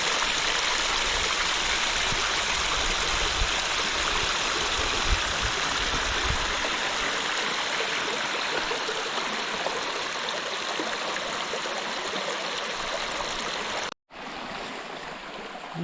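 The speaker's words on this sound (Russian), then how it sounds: "облагороженный родничок" Steady rushing of flowing water from a small landscaped spring in a cave area, close and continuous, with a brief cut near the end before the flow resumes.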